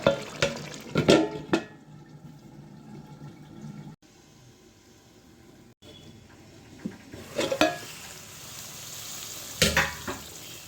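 Mutton and potatoes braising in a pan give a steady close sizzle, with louder stirring and scraping bursts at the start and end and a quieter stretch in the middle.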